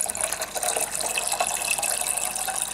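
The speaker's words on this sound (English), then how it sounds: "Fill it with normal water." Water gushes steadily into the water tank of a Tassimo T40 Fidelia coffee maker, a loud continuous splashing fill with no speech over it.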